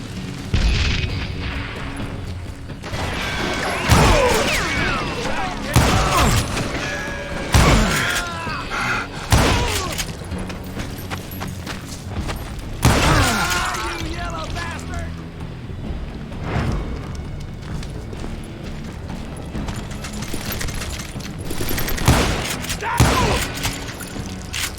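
Gunfire in the Western shooter game Call of Juarez Gunslinger: scattered shots and heavy booming thuds burst out repeatedly over a busy soundtrack, with voices speaking at times.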